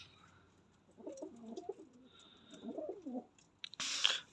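Pigeons in a coop giving two soft, throaty coo phrases, close but quiet, followed by a brief rustling burst near the end.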